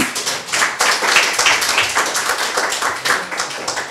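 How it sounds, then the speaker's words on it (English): Steady applause from a crowd at an official ceremony in Saint Lucia, a dense patter of many hands clapping continuously at an even loudness. "you should give yourself a round of applause."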